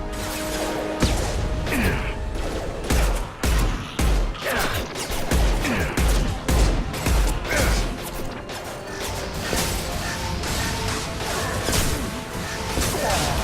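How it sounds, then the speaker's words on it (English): Heavy high-impact gunshots in the sci-fi shooter Mass Effect 2, a dense run of loud, close crashing blasts and impacts, thick and rapid at first, then more scattered, over game effects. "Firing a high-impact shot."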